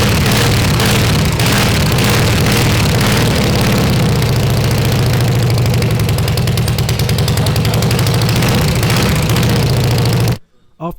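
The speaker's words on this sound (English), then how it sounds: "now she runs on 2 cylinders and sounds lovely" A budget bobber motorcycle engine idles steadily on two cylinders, loud and close with an even low rumble for about ten seconds before cutting off abruptly; no one talks.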